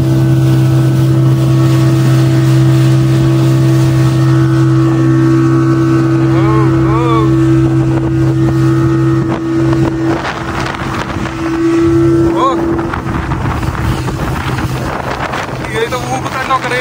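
A speedboat engine drones steadily on the Kinnerasani dam reservoir, loud and close, with wind buffeting the microphone and the motor pitch shifting as the boat moves.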